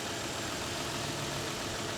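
A Camaro convertible's engine idling steadily and quietly, a smooth continuous low hum with no talk over it.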